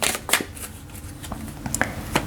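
Oracle cards are shuffled by hand in short, crisp bursts of sliding and slapping card edges, close and fairly loud, with no talking.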